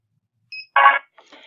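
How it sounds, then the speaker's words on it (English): A barcode scanner gives a short high electronic tone followed by a harsh buzzing error beep, then a fainter trailing buzz, all in an otherwise silent background. "If you scan the book and it makes the angry beep"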